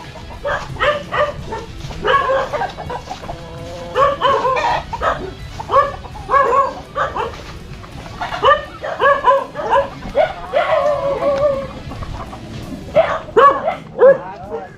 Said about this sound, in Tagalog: May aso dyan ah.